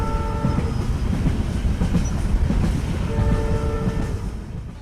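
A cartoon-style train running along the rails, a steady loud rumbling clatter with a brief horn-like tone near the start and again toward the end, fading slightly at the close.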